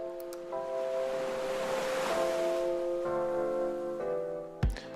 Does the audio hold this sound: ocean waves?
yes